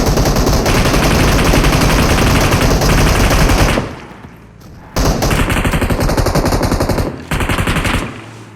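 Automatic gunfire in the PUBG battle royale game, loud rapid bursts of machine-gun fire that stop briefly, then resume in two more sustained volleys, with no talking.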